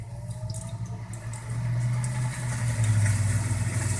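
A Haier HLP23E portable washing machine on its spin cycle, pumping water out with a steady low motor hum and rushing, splashing drainage that grows louder about halfway through, close by.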